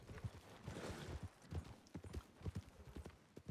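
Horse hooves clip-clop in steady repeated beats in a western roleplay game, moderately loud and continuous with faint background noise.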